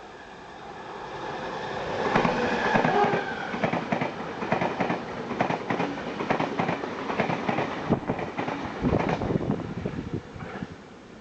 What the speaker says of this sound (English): We've got a train coming